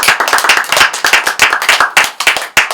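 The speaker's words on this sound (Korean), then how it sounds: "박수 주십시오" Close, loud clapping from a small audience at a Korean speech program, brisk irregular hand claps in quick succession with no talking.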